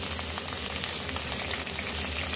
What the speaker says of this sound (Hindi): अब इसमें हमने प्याज डाल लेना है। हल्का सा इसको हमने फ्राई कर लेना है